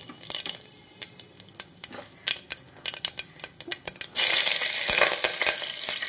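Mustard seeds and cumin sizzle and pop in two spoons of hot oil for a tempering, with sharp crackles scattered over the first few seconds before a loud, steady frying hiss takes over.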